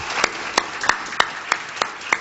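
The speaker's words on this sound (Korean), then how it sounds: "성가대원들 오늘 수고했는데 박수 한번 칩시다" A handful of people in a church congregation clap for the choir, with slow, separate claps spaced about a third of a second apart, fairly close, with no voices over them.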